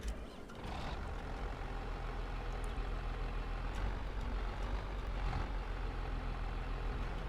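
A truck reverses in Farming Simulator 25, its engine rumbling at idle under faint reversing beeps and a brief hiss like an air brake, all fairly quiet and steady.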